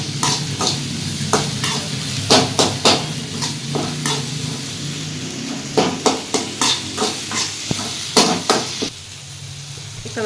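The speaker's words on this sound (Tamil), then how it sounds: "இதையும் சேர்த்து நல்லா வதக்கிக்கோங்க" Chopped tomato, beans and carrot sautéing in a pan: a steady sizzle under repeated scraping and clanking strokes of a spoon against the pan, loud and close, with a brief quieter pause near the end.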